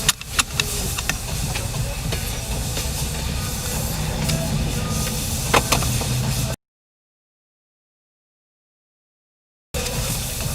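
An automatic car wash running a deluxe cycle, sprayers hissing and water pounding steadily on a car for several seconds, heard close from inside, before the sound cuts out and briefly returns.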